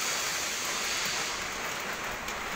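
Steady rain falls during an outdoor diving certification course, a continuous hiss with no voices.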